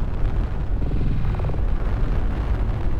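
In the Star Citizen Squadron 42 space-combat game, a hostile craft blows up in a deep, rumbling explosion that swells and rolls on for a few seconds, loud and dense with low booming energy.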